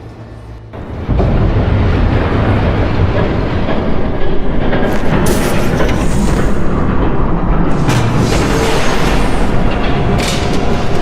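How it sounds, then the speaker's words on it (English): A train rushes past in a Batman Telltale Series game scene, a loud continuous rumble and clatter that starts abruptly after a second of low ambience and holds steady to the end, with brighter screeching surges midway. "There's a train coming."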